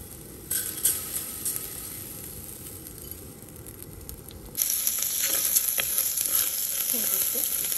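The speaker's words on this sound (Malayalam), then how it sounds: "ഇപ്പോൾ ചെറുതായിട്ട് ഒലിവ് ഓയിൽ ഇട്ട് ഫ്രൈ ചെയ്യുക" Cooked rice frying in olive oil in a pan for chicken fried rice, a steady crackling sizzle that grows louder and brighter partway through, with occasional stirring scrapes and no talking.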